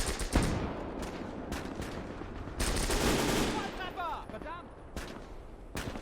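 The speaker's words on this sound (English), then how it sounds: "We try an MG team here to get the enemy's attention." An MG team's machine gun firing in the Gates of Hell battle, repeated sharp bursts of automatic fire cutting through distant battlefield rumble, with someone talking over part of it.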